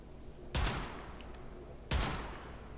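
Two separate semi-automatic shots from the Zenith rifle in the video game Warframe, each a sharp boom with a short decaying tail, spaced a little over a second apart.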